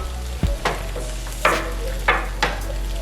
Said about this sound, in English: I'm adding a 1/4 cup of carrots, which is about 1 small carrot that I've chopped up there.